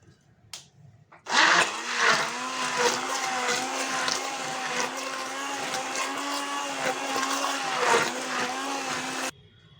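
An electric blender whirs loudly and steadily while it mixes watermelon yogurt lassi, starting abruptly after a short quiet moment and stopping cleanly near the end.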